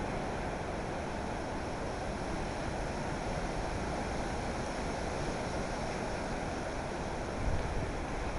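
Strong, sustained wind gusts during Cyclone Gamede blow hard through garden trees, a dense, loud, unbroken roar with a slight surge near the end and no talking.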